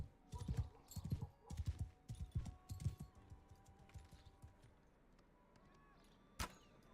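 Horse hooves from Bannerlord Online, a quick run of clip-clop footfalls in rhythmic bursts that fade to quiet, followed by a single sharp click near the end.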